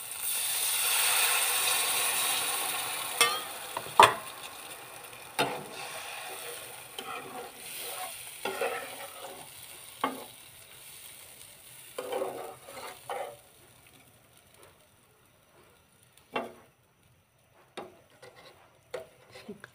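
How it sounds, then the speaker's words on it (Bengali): Curry broth hits a hot pan with a loud initial sizzle that fades, followed by scattered scraping and clacking strokes of stirring in the pan, close up with no talk. "এখানে আমি এখন ঝোল দিয়ে দিব।"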